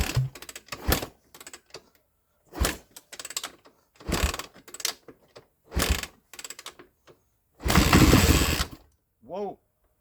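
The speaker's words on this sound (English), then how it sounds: "we're just going to kick it a time or two and to see what happens here" A vintage Honda 350X three-wheeler, a barn find, is kicked over several times, with bursts of mechanical clatter separated by silence, then a longer rough noisy burst as the engine briefly catches, all close and loud.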